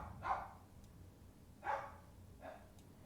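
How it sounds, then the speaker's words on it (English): A dog indoors barks three times in separate bursts, fairly faint and spaced about a second apart, with quiet room tone between the barks. "Sorry about my dog. He's been really loud right now."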